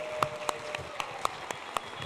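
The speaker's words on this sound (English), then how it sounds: "Let's give this group of young people a big round of applause." Sparse, slow clapping at a school board of education meeting, with a few distinct claps spaced about a quarter second apart over a quiet room murmur, faint and thin rather than full applause.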